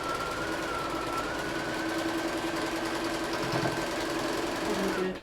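A sewing machine stitches a quilt block in one steady, continuous whirring run of close, fast needle strokes that stops abruptly at the end.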